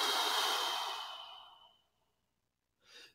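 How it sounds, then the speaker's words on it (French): One long, full exhalation empties the lungs and fades out, followed after a pause by the start of a short breath. "La première chose, c'est de vider complètement les poumons"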